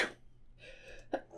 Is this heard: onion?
no